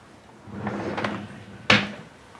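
A lower drawer of a makeup vanity sliding open, with a soft rising rub followed by a sharp thud as it stops, close by in a quiet room.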